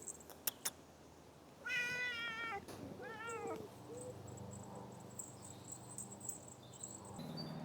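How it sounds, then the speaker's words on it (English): A cat meows twice with clear, wavering cries close to the microphone during a casual walk outdoors, alongside faint rustling and low background hum. "Just a cat randomly appeared."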